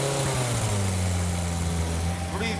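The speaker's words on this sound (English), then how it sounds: "Breathes unhealthy smoke, that engine. Morris Minor engine, it's done a few miles." A worn, high-mileage Morris Minor engine that is smoking runs at a steady idle, a close, even drone with a pitch shift near the start, and a voice is faintly heard under it.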